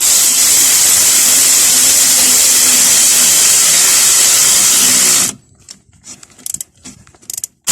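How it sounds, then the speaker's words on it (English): A bolt is driven back in with a ratchet tool to secure a front suspension bracket on a Citroën Picasso, a loud continuous whirring buzz for several seconds, then stopping, followed by a few faint clicks. "we're going to secure this bracket back down by putting this bolt back in"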